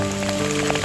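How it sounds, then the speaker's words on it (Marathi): Heavy monsoon rain falling near a parked car at the foot of a hill, a dense, loud, continuous hiss of downpour with a steady low hum beneath. "आणि खूपच पाऊस आहे."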